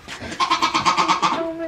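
A goat close by lets out a loud, rapidly wavering bleat: a string of quick pulsing tremolo notes that ends on a steadier held tone.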